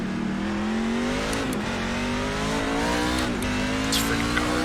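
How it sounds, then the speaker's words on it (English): A NASCAR truck engine at Martinsville Speedway in iRacing drones steadily, pitch climbing and dropping through gear shifts, with a voice talking over it. "This freaking car is loud."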